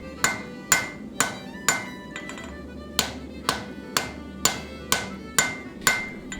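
Hammer striking a drift inside the eye of a forged, folded axe, about a dozen sharp ringing metallic blows at a steady, even rhythm, close and loud with no talk.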